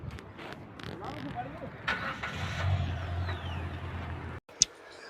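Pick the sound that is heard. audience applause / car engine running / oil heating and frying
car engine running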